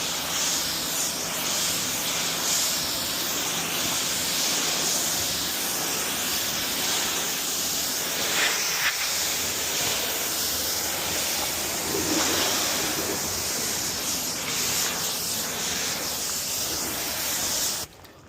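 A pump sprayer jets water in a strong, steady hiss like a pressure washer while a horse trailer is cleaned, the broadband spray running loud and continuous for the whole stretch before cutting off abruptly at the end.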